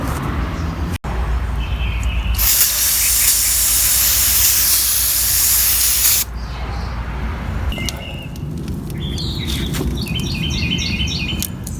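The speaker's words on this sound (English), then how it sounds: "that brake cleaner was non-chlorinated, so it shouldn't damage the plastic" Non-chlorinated aerosol brake cleaner sprays onto an electric chainsaw during cleanup in one loud, steady hiss lasting about four seconds, preceded by a sharp click, with faint birdsong chirping outdoors afterward.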